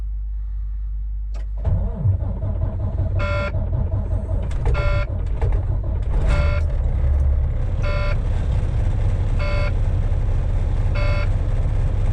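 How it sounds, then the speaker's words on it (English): A truck engine cranks and catches into a steady idle, and then a warning alarm beeps in short regular bursts over the running engine, close by with no talk. "Pressure alarm."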